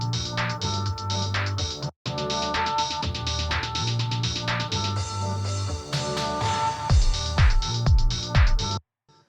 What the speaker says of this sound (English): first I added this sort of like rolling snare as well in the build